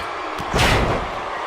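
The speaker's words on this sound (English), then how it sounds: "Did you hear that thud?" Wrestling body slam in WWE 2K18, a single heavy booming thud that lands mid-clip and fades out over a constant arena crowd roar.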